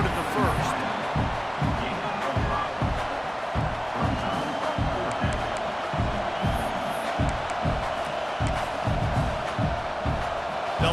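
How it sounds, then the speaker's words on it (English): A stadium crowd roars continuously in EA Sports College Football 26 as a kicker lines up, a dense sustained cheer with rhythmic thumping underneath, steady and loud, with commentary audible over it. "This crowd trying to do its part to get inside the kicker's head"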